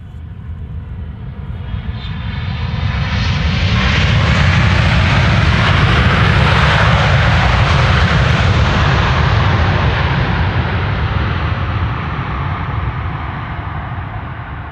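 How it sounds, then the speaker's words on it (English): An Air China Cargo Boeing 777 freighter landing at Amsterdam Schiphol Airport, its loud engine roar building as it approaches, peaking overhead and slowly fading away. "Flight 1033 Air China Cargo. 11 hours and 28 minutes on the way. 777 freighter"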